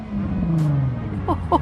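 A Nissan 370Z with a Tomei Expreme Ti titanium exhaust gives a short, loud engine rev that rises and falls, with a brief voice underneath.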